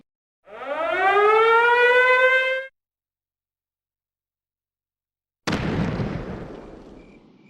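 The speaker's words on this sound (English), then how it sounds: "Is that sound a mortar?" In the video game Valkyria Chronicles, a rising whistle of incoming mortar fire lasts about two seconds, then after a pause a loud explosion bursts and rumbles away.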